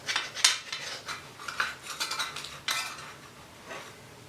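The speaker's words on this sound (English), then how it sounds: "Okay, I have my spatula under there." A metal spatula scrapes and clinks against a pan while being worked under a slice of gluten-free sourdough pizza, making a few short, quiet scraping strokes with small taps in between.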